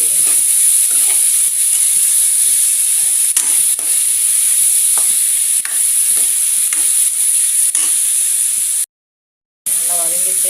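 Tomato and mint leaves sautéing in a pan with chayote give a loud, constant hiss up close, dotted with soft stirring scrapes, then a brief dropout and a short spoken voice.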